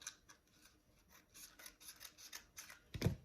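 Scissors snip paper for a paper flower with a run of quiet, close cuts in a rough rhythm, ending in one louder snip.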